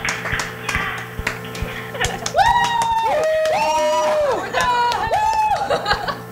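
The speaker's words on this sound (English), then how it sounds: "Okay, round of applause everyone" Studio crew in a high school TV news set clap and chatter after a broadcast wraps, scattered claps under lively talk and laughter, with bright tonal electronic sweeps cutting across in the middle.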